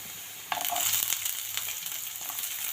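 Green beans drop into a hot kadhai of potato and carrot over full flame, breaking into a steady, moderately close sizzle that continues on its own without talk.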